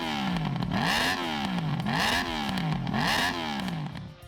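A Honda VFR800 Interceptor V4 motorcycle engine revving in three rising and falling sweeps, each pull climbing in pitch with a harsh gear-driven whine before dropping back, loud and close.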